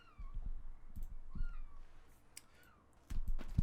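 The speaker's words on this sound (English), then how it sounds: "the cat is just clawed up my leg" A house cat meows several times close by, short rising and falling calls spaced across a few seconds, with light clicks and bumps between them.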